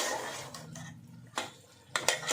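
A spoon scrapes and clatters in a pan while soya manchurian is stirred with capsicum and onion, a few faint clinks standing out over a quiet, steady background.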